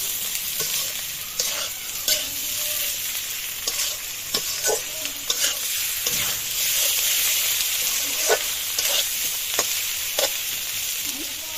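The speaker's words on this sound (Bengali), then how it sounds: "আদা রসুনের কাঁচা গন্ধটা না যাওয়া পর্যন্ত একটু ভালো করে মশলাটা ভেজে নেব" Ginger, garlic and cumin paste frying in a pan, stirred often: a continuous hissing sizzle broken by frequent scraping and tapping of the spoon, close and fairly loud, with no speech.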